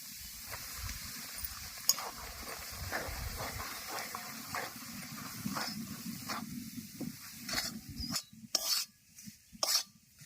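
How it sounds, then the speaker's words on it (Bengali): Flour is stirred into a pan with cinnamon and cardamom for Medinipur-style flour halwa. A spoon scrapes and clinks against the pan over a soft hiss, and the scraping grows sharper and more clattery toward the end. "দারচিনি এলাচ এবার ময়দা দিয়ে দেবো"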